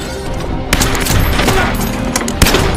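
Gunfire in a mafia shootout from the action film Code of Silence: a dense fusillade of rapid shots with loud booming bursts, heavy and continuous throughout, with no talk.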